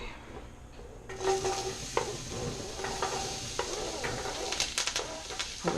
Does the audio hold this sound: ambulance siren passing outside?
no